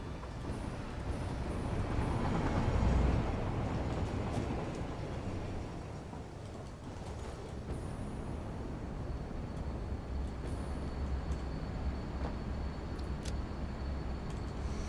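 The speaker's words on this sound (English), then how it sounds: "Here comes the train." A train arrives in the factory-building game Satisfactory, a broad, steady rumbling roar that swells early on and then holds at a constant level, with no talking.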